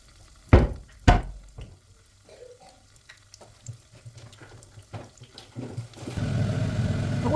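Spring rolls slide into hot oil in a home kitchen: a couple of sharp clatters and scattered small clicks, then a steady rising sizzle of frying that grows louder toward the end.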